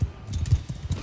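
Hooves of a galloping horse clip-clop in quick, uneven beats during a medieval battle in Mount & Blade 2: Bannerlord, close and fairly loud, with no talk over them.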